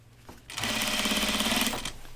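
A sewing machine runs a single steady burst of stitching along a kimono neckband, starting away from a bulky seam, close and loud for over a second before stopping.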